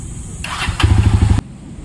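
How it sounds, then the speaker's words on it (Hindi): A Jawa 42 Bobber motorcycle engine cranks and fires, a brief starter whir followed by a quick burst of rapid low pulsing combustion that cuts off abruptly, heard close and fairly loud. "बाइक को स्टार्ट करते हैं।"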